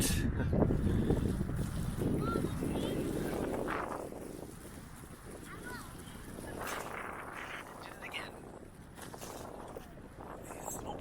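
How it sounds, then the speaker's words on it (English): Strong wind gusting during a December snowfall walk in Toronto's Cabbagetown neighbourhood, roaring and buffeting the microphone in heavy continuous waves that rise and ease, close and loud, with no speech in this stretch. "Too much wind."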